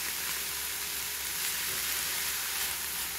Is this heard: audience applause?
no